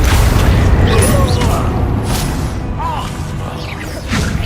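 Spell blasts and impacts from Hogwarts Legacy combat, including a Confringo blast, sound as dense, continuous booms, whooshes and crashes throughout, loud and busy.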